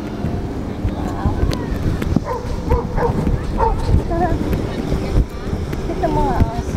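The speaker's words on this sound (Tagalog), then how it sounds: "Ito mga aso." Dogs bark at an outdoor dog park, sharp scattered barks and yips at mid distance amid wind buffeting and ambient chatter, with a person talking throughout.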